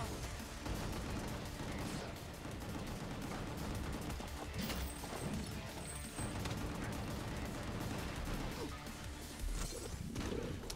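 Dense, continuous gunfire and crashing impacts fill a frantic firefight in the action video game Gungrave G.O.R.E, loud and relentless with overlapping bursts and no pause.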